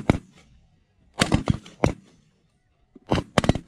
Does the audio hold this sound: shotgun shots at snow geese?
yes